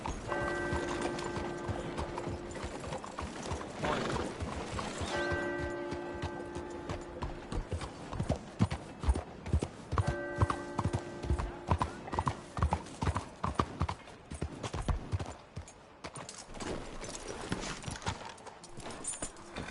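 Horse hooves clip-clop steadily through Red Dead Redemption 2, a rhythmic trot running the whole stretch amid game music and ambience, with a whinny early on and a voice briefly heard.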